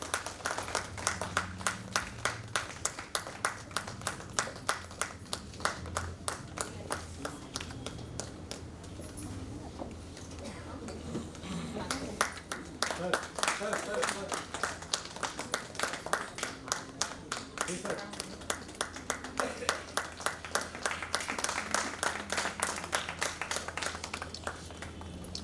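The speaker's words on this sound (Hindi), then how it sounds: "आप सबके करतल ध्वनि से अपना उनका स्वागत करें।" An audience at a stage event in a hall claps steadily to welcome a guest, with rhythmic, sustained hand claps lasting about 25 seconds, moderately distant, over faint background murmur.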